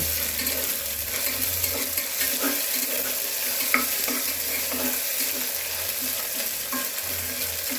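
Ginger garlic paste frying in a pan with browned onions, a dense continuous sizzle close up, with repeated stirring scrapes running through it.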